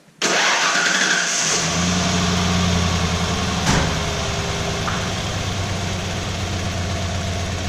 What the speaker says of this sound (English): I'll start the truck up, see what happens.